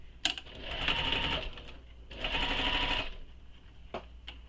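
A sewing machine runs in two sustained bursts, stitching a seam on a shoulder bag, with short pauses and a couple of clicks between runs, fairly close and clear with no talking.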